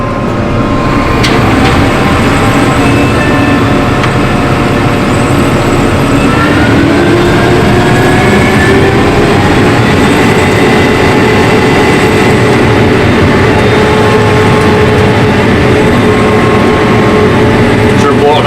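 A combine harvester runs with its hopper unloading, a loud, steady mechanical roar with whining tones and rattling, while voices talk over it close by.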